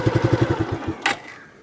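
A Suzuki Gixxer motorcycle with its stock exhaust fires in a quick run of even, close-up pulses for about a second, then a sharp clack and a fading tail.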